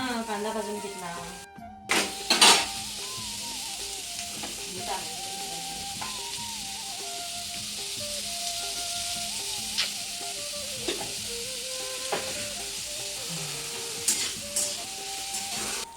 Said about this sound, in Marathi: आता काय कांदा भाजून घ्यायचा.